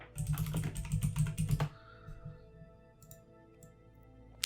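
A run of rapid keystrokes on a computer keyboard, close and fairly quiet, lasting about a second and a half, followed by near silence with a few faint clicks.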